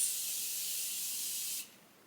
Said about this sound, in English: I'll spray your face.